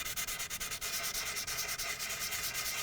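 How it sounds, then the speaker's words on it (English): Hand sanding on a Hartzell carbon foam composite propeller blade during a trailing edge repair, fast rhythmic back-and-forth scratchy strokes, close and steady, no talk. "do a little local sanding right in that area until you're able to remove it."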